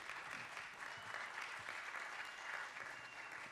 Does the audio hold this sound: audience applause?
yes